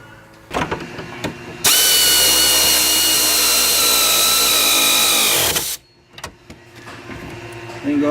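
A power tool runs a nut onto a rear strut mounting stud of a 2001 Oldsmobile Intrigue, giving a loud, steady whine of about four seconds between short clanks and handling noises.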